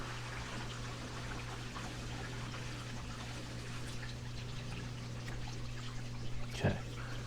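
Water runs from laundry upstairs as a quiet, continuous trickle under a steady low hum, with a brief louder knock near the end.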